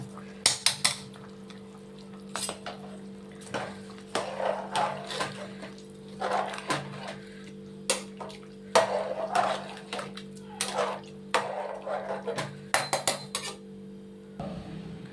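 Washed, soaked rice goes into a pot for vegetable pulao, with a series of close clinks, scrapes and wet pours as grains and utensils hit metal over a steady low hum.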